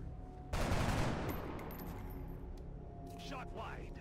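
A loud burst of gunfire erupts in the turn-based strategy game XCOM: Enemy Unknown Long War, a sharp crack that decays over a second or two, with someone talking under it and faint later effects.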